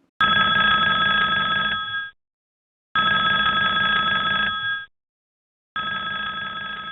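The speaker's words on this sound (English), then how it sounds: "If you select Call IFL Voice, the call will ring on the computer" An incoming voice call rings on a home computer for a child's tutoring session, sounding three electronic telephone-style rings of about two seconds each, separated by short silences, loud and clear with no talk.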